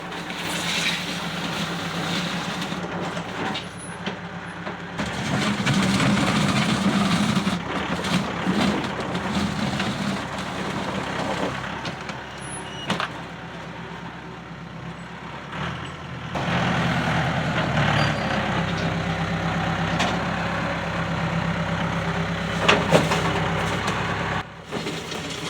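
A tractor engine runs loudly and continuously nearby on a concrete job, its throb swelling and easing as it works, with intermittent clanks and brief knocks and no talk.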